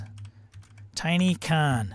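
Light, rapid clicks of someone typing on a computer keyboard fill the first second. Then a voice begins talking, louder and over the typing.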